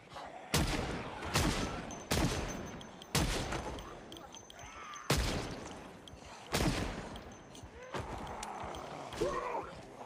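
Gunfire rings out in Project Zomboid, roughly eight loud single shots spaced about a second apart, each with a short echoing tail, and a voice talks faintly between them.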